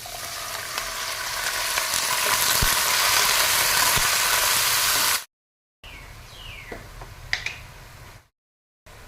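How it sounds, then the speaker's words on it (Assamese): Pumpkin plant tip greens sizzle in hot oil with onion, garlic and chilli, a loud steady frying hiss broken by brief silences and a few sharp spatter pops. "অকণ বেছি ভাজিলে এতিয়া মই শাকখিনি দি দিছোঁ"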